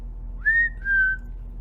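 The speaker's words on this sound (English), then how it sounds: "You're going to have to know how to whistle." A person whistles a short two-note phrase, a rising then steady tone followed by a slightly lower held note, clear and close, alone with no talking.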